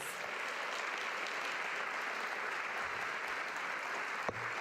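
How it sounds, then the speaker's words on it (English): An audience at a Martin Luther King Jr. regional celebration gives award recipients a sustained round of applause, a dense even roar of many hands throughout, ending with a single sharp knock. "Another round of applause for them, please."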